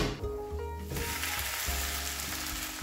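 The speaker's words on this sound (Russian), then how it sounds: "Жарим это все на среднем огне под закрытой крышкой." Steady sizzling and crackling of a potato flatbread frying over medium heat in a covered pan, continuous and close, with faint clinks and a low hum underneath.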